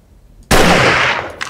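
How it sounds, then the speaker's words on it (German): One loud, booming gunshot in the video game 7 Days to Die hits suddenly and rolls off with a long, echoing tail. "das nenne ich mal einen satten Schuss auf die Entfernung"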